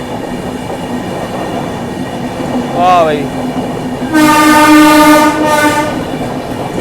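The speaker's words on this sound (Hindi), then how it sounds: "अब हम लोग सचखंड एक्सप्रेस को ओवरटेक कर रहे हैं" Mahakoshal Express rumbling along while overtaking the Sachkhand Express, steady rail noise with a short wavering horn blast, then a long loud horn sounding close by; a voice calls out briefly.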